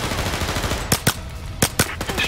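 Gunfire in Overkill's The Walking Dead, two pairs of sharp, loud shots cracking over a steady background rumble of battle.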